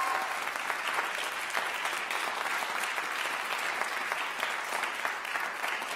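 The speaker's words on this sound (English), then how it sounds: "let's give them another big round of applause." A theatre festival audience at an opening ceremony claps in sustained, dense applause, even and unbroken throughout.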